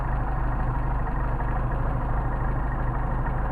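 A Mercedes 190SL engine with Solex carburetors idles at about 600 rpm in freezing 29ºF weather, a steady, close, low throbbing rumble with an even pulse and no talk.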